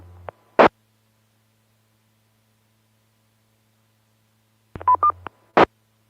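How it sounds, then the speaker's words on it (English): Brief, crackly radio mic key-ups on an amateur radio club net, each a short burst of static and tone with long silence in between, clustered near the start and again near the end. "I heard someone key the mic real quick there."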